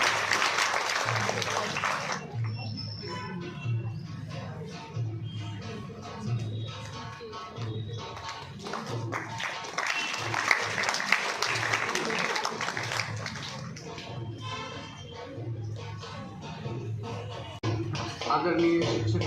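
Sustained crowd applause at a school career-fair ceremony while a garland is placed on the image of Goddess Saraswati, steady and fairly even for the whole stretch, with a faint musical tone and murmuring mixed in underneath.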